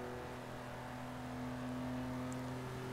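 Jaguar Mk 2 with its 3.8 engine accelerating in Forza 3, a steady droning engine hum held at high speed with strong low harmonics, continuous and fairly quiet throughout, with no talking.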